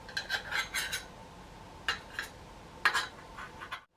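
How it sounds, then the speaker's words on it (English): A metal spoon taps and scrapes against a tartlet tin while an apple mixture is piled into its centre, giving a series of light, close clinks in small clusters with brief pauses between. "Put spoonfuls of the apple mixture in the centre and pile it up like a little volcano."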